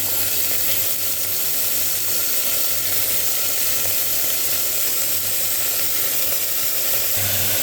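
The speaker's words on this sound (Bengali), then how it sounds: "সমস্ত সবজিগুলোকে আমি ভালো করে তেল দিয়ে একটু ভাজা ভাজা করে নেব।" Drumsticks, potato, ridge gourd and pointed gourd sizzle steadily in hot oil over a tempering with tomato while cooking vegetable dal, a continuous close frying hiss with no voices.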